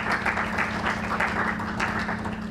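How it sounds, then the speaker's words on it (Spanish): An audience at a youth debate on compulsory military service applauds a guest, the clapping even and moderately loud, heard from within the room with no voices over it. "Démosles un fuerte aplauso, por favor."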